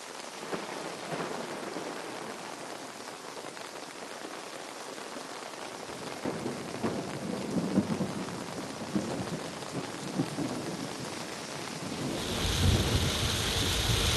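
Steady early-morning rain pours down over Mumbai in a dense, even hiss, with a low rumble beneath and the downpour growing a little heavier and brighter near the end.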